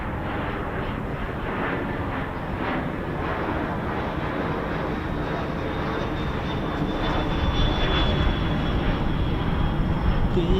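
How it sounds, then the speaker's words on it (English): An Embraer Phenom T1 jet trainer flies in to land at an RAF airfield, its engine roar steady and loud throughout and slowly swelling as it nears, with no talk over it. "Here comes the Embraer back in again for another."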